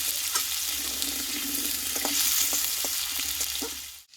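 Potatoes sauté in a hot pan with a steady bright sizzle, broken by a few stirring scrapes and clicks, close and continuous until it cuts off at the end.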